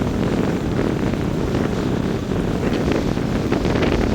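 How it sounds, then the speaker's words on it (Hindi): Fast, high floodwater rushes past a village as a loud, continuous roar, mixed with heavy wind buffeting the microphone, steady throughout with no voices. "देख रहे हैं दोस्तों कितना ज़्यादा पानी है यहाँ और कितना तेज़ी में बह रहा है।"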